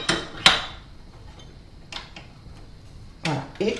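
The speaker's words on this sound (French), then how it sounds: "je mets le crochet" A few sharp metallic clicks and clunks as a dough hook is fitted onto a stand mixer for brioche dough, separate knocks spaced out over a quiet background.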